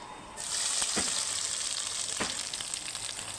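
Chopped ginger hits hot oil already holding cumin, panch phoron and curry leaves, bursting into a loud, close, continuous sizzle with a couple of sharp pops layered on top.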